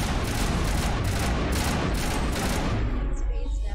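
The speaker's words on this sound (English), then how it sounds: "Who is shooting?" Sustained video-game gunfire in Mass Effect Legendary, a dense rapid volley of shots and explosions that stays loud and close before fading out abruptly near the end.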